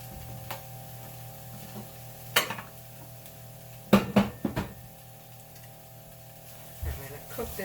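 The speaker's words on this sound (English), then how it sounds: "I'm going to cook this raw flour paste out of here." Raw flour paste cooking in a pan, with a faint low sizzle and a few scattered clinks and scrapes from stirring, quiet and sparse over a steady background hum.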